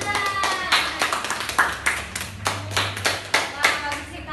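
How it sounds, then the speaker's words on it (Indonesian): Schoolchildren in a classroom clap their hands in a quick, uneven burst of distinct close claps, with a voice briefly audible alongside. "Oh, tepuk tangan."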